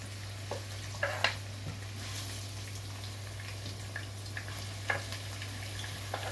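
Sliced onions fry in hot oil in a pan, giving a continuous bright sizzle broken by scattered pops and stirring scrapes, with a steady low hum underneath.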